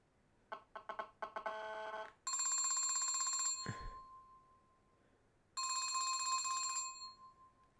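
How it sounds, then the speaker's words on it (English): A phone's system ringtone playing alone: a quick run of rising electronic chime notes, then two long sustained bright tones separated by a pause, with a brief low thump between them. "I'll probably play the system ringtone"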